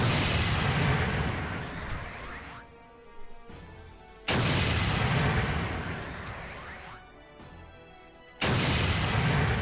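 GM Sniper II shots in Gundam Battle Operation 2, three heavy booming blasts spaced a few seconds apart, each loud and close with a long rumbling decay before the next.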